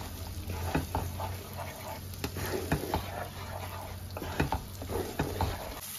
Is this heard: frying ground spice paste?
yes